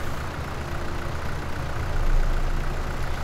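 A tractor engine idles steadily in Farming Simulator 17, a continuous low mechanical rumble holding at an even level with a slight swell near the end and no talking.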